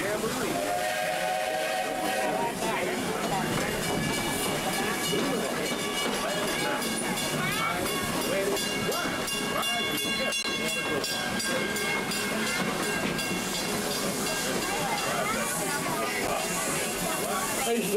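Walt Disney World Railroad steam train running at night, a continuous loud rumble and hiss of the moving train with clattering wheels, steam sounds and a whistle, while a recorded announcer speaks over it.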